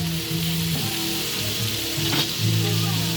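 Sweet potato (kamote) sizzles and fries steadily in a hot pan, with occasional stirring scrapes, close and continuous, with no talk.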